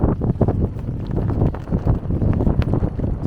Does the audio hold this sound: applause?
no